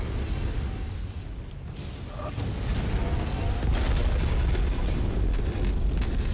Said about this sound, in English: Oh no, that's an ammo explosion.